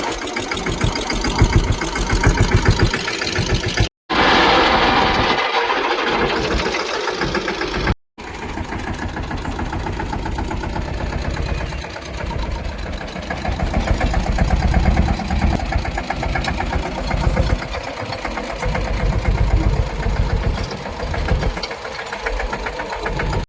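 A tractor engine idles in a steady, rapid mechanical chug with a knocking rhythm. It runs close and loud throughout, with a couple of abrupt cuts and no talking.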